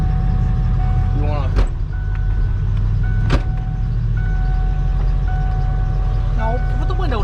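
A plow truck idles and reverses out of a spot, its steady low engine rumble under a few warning beeps, a couple of sharp clicks, and people talking inside the cab.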